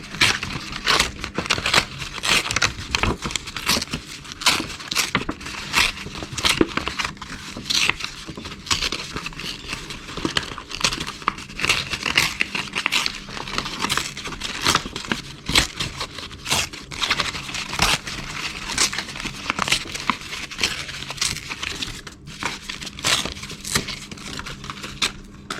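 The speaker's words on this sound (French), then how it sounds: "Je viens découper l'intérieur." Crisp scissor or blade cutting through the inside of a fabric pouch, with dense crinkling, snipping and scraping noises running continuously up close and fairly loud.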